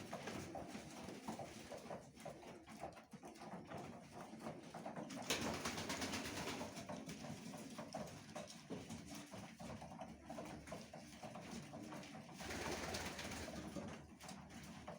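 Ornamental pigeons coo softly and continuously nearby, overlapping throaty calls with some rustling, and no one speaking.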